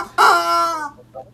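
A chicken in the shooter Point Blank lets out a single loud, close squawking cluck, with a faint short cluck trailing after it.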